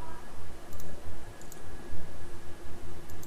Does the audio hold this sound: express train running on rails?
no